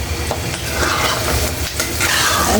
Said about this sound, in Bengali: পটলটাকে ভাজা ভাজা করে নেব